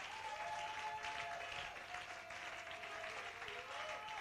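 A church congregation applauds together during a Sunday worship service, with steady, dense clapping that carries on without a break, and a faint sustained tone holds underneath.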